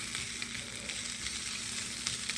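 Seasoned steak and chicken for fajitas sizzle on a George Foreman grill, a close, steady crackling hiss with small pops and no talk.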